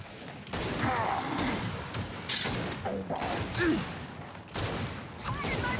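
Rapid bursts of gunfire and explosive impacts in the Gears 5 shooter, clustered in repeated loud volleys with mechanical clatter, heard with someone talking and reacting over them.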